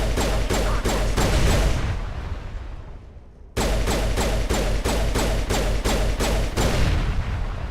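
Rapid weapon fire in the video game Mass Effect, set on the icy world of Noveria: steady, evenly spaced loud shots in bursts, a fading gap as the echo dies away, then another rhythmic volley, with no talking.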